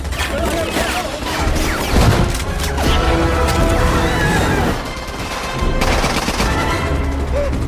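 Gunfire from upper-floor shooting in a scene from The Mummy, with dense bursts of shots and crashes over a loud rumbling film soundtrack, continuous throughout at close range.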